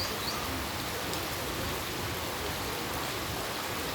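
Heavy rain pours in a steady, dense hiss during a strong rainstorm, constant and fairly loud without pauses.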